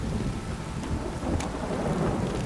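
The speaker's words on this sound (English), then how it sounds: "This downpour's a bastard." Heavy downpour in The Witcher 3, a dense continuous roar of rain with low rumbling, steady and close, no voices over it.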